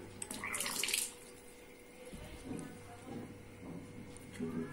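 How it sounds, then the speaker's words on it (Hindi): Water runs from a tap in a home bathroom, with a louder splashing burst near the start that settles into a softer steady flow, while faint voices and household sounds carry on in the background. "अब भी चल रहा पानी"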